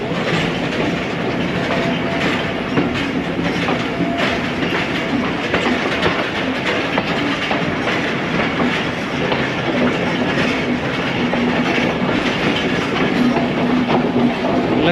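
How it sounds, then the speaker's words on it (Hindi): Ravi Express passenger train running and rounding a curve on the line toward Nankana Sahib, heard from inside as a steady, loud rolling roar with rhythmic clickety-clack of wheels over rail joints and a faint squeal. "ट्रेन मुड़ रही है।"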